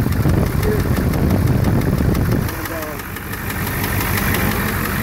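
Ford 7.3 IDI diesel idling with a steady, rapid rhythmic knock close by, the engine note loud and rough before easing slightly halfway through while the clatter continues underneath.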